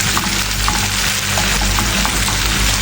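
Chilli fish fries in an oily pan with a loud, continuous dense sizzle and crackle, close up and steady throughout, with no talking.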